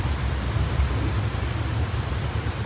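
Heavy rain pours steadily, a dense, loud and continuous hiss of downpour with a deep low rumble beneath it, no voices present.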